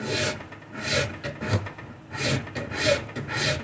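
A rasp shapes a wooden limb with rhythmic forward push strokes, each a coarse scraping rasp, about six close strokes in a steady rhythm with brief pauses between them.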